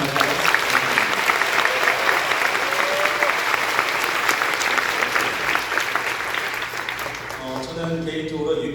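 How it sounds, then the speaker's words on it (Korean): Loud, sustained audience applause for a church worship team at a centennial service in Daegu, thick steady clapping that thins toward the end as a speaker resumes talking. "박수 한번 주세요."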